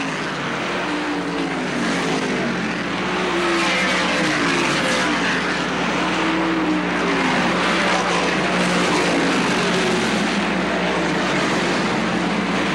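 Modified race cars howl around Oswego Speedway in 1983, a dense, loud wall of engine roar from several cars with rising and falling passes and constant crowd-level noise underneath.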